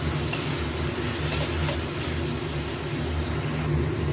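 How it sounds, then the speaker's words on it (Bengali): Ground coriander, cumin, turmeric and Kashmiri chilli frying in a pan for masoor dal dhoka, making a steady broadband sizzle over a constant low hum, with no clear stirring strokes. "আর পুরো মশলাটা ভালো করে ভাজা হোক।"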